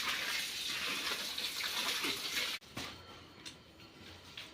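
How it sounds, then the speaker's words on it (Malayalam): Water poured to put out a fire gushes and splashes steadily for a couple of seconds, then stops abruptly, leaving faint trickles and drips. "ഇങ്ങനെ വെള്ളം ഒഴിച്ച് അണയ്ക്കുന്നത്"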